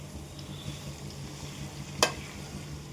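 Curry leaves frying in hot oil are stirred in a pan, a soft steady sizzle with faint scraping strokes and one sharp clack of the spoon near the end, close and quiet, no talking.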